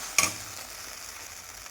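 Spices sizzle in a hot pan for a paneer dish: a short clatter of stirring at the start, then a soft, even frying hiss with no talking.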